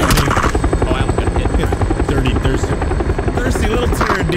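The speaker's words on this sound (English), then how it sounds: "you can't hear because of the stupid chopper" Helicopter rotor chopping loudly and steadily overhead throughout a battle-royale video game match, with a voice talking over the thrum.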